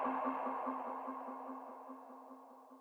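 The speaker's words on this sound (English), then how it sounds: "we took all that super bright high end off and added all that saturation to give us a sound" A lo-fi vocal "hey" sample with its bright highs filtered off and saturation added repeats in a steady pulsing loop, sounding muffled and warm at moderate level with no talking over it.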